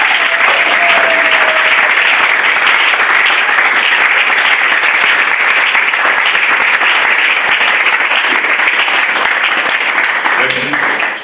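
A church congregation applauds loudly and continuously, a dense unbroken clapping that fills the room and fades at the very end.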